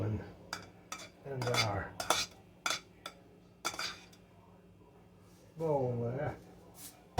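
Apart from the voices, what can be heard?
putting chicken salad ingredients into a bowl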